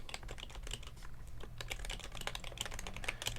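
Typing on an HHKB keyboard fitted with typewriter-style keycaps gives a rapid, close stream of crisp key clicks and thocks in an uneven rhythm, with no voices.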